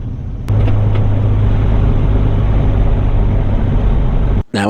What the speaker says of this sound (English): Prop reverse activated.